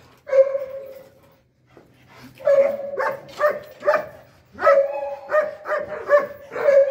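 A new young dog barks and yips in short bursts at close range, a cluster early on, then a pause, then a rapid run of repeated barks toward the end.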